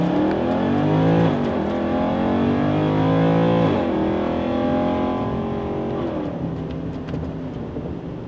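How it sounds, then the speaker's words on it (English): A Mercedes ML63 with long tube headers revs hard through its exhaust, a loud deep roar that climbs in pitch, drops at each gear change and climbs again, then settles into a steadier drone. "Let's have a listen to those long tube headers."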